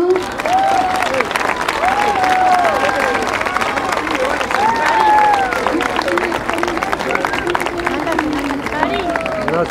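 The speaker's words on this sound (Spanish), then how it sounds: "pero podemos aplaudir igual" An audience claps and cheers loudly through a busy crowd soundscape with rising voices and shouts, sustained applause continuing for about ten seconds.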